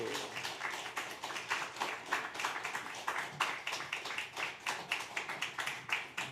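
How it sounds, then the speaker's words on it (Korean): A church congregation at a New Year's Day Sunday service claps, a fairly small group producing a brisk, uneven patter of individual hand claps that rises and falls over several seconds, moderately close. "우리 힘찬 박수 한번 부탁드릴까요?"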